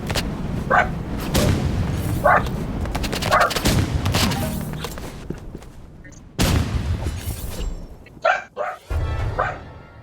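A neighbor's dog barks repeatedly in loud, sharp bursts nearby, with irregular pauses between volleys against a noisy background.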